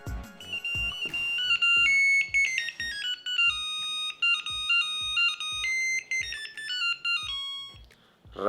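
An old Nokia mobile phone plays a bright, beeping melodic ringtone loudly and close, its stepped electronic notes running in quick phrases with soft clicks underneath and no talking.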